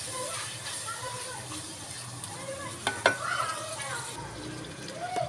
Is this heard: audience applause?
no